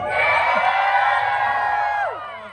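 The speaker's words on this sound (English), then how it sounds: "Can cheer more than that if you'd like." Audience at Avengers Campus story time in Disneyland cheering and whooping, a loud sustained crowd roar that stays steady for about two seconds and then fades away.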